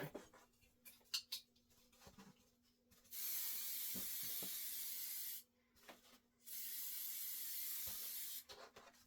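Two long bursts of aerosol spray hissing close by, separated by a short pause, with light handling noises before and after.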